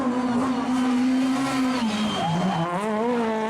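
A Peugeot 306 Maxi Evo race car screams up a hillclimb, its engine held at high revs with a brief dip and pitch shift as it shifts, loud and close.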